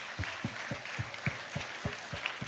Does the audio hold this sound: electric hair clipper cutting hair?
no